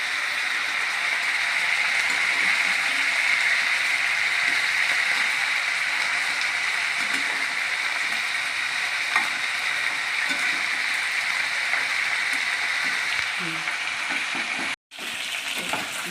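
Chicken pieces fry in a pan for lemon chicken curry, a steady, even sizzle like light rain that holds throughout, broken by one brief dropout near the end.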